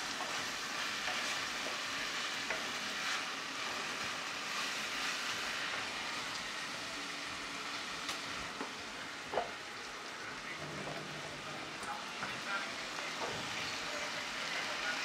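Longaniza sausage and vegetables sizzle and fry in a pot while being stirred, a steady crackling hiss with scraping and clinking from the utensil, for Dominican locrio.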